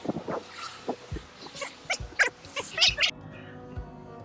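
Two small dogs out on a sunny walk, giving short yips, whimpers and excited bursts of noise in irregular succession, fairly close but not loud.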